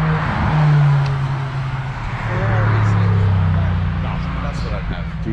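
A car resembling an Ariel Atom accelerates up the Shelsley Walsh hillclimb at a supercar festival, its engine note rising and swelling as it passes, while people talk nearby.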